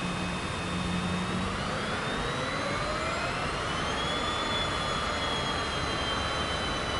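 Airliner jet engines in Microsoft Flight Simulator 2024 rumble steadily at taxi power, a continuous loud roar with whining tones slowly rising and shifting, no talk over it.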